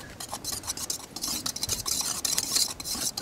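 Dry biscuit ingredients are worked in a bowl with an old 1950s pastry mixer, giving a steady close scraping and rustling with quick rhythmic strokes and no talking.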